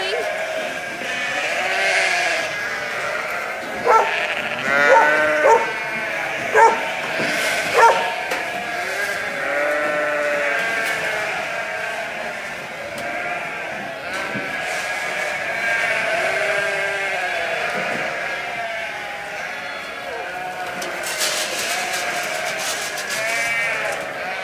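A flock of ewes bleats continuously at feeding time during lambing season, many overlapping calls near and far, with a dog barking a few times and a person speaking over the din.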